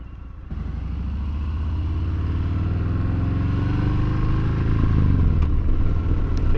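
A Harley-Davidson Fat Bob motorcycle rides along with a close, loud V-twin engine rumble that rises steadily as it accelerates, with wind noise and no talking.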